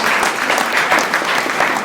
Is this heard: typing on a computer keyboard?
no